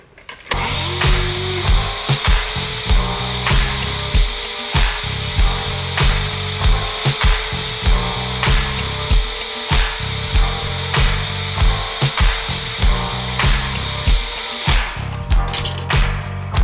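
A blender whirs through a shake of eggs and water, a loud sustained motor drone with rhythmic rattling pulses that cuts off near the end.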